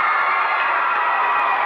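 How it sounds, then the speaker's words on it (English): Noisy crowd cheering in a high school boys basketball gym, a loud, dense, continuous roar of many voices filling the room without a break. "Very noisy crowd I mentioned before, but man, it does get loud in here."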